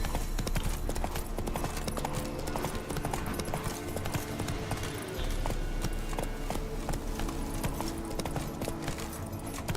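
Geralt's horse Roach gallops in The Witcher 3, a steady clip-clop of hooves under a dense layer of game ambience and music throughout.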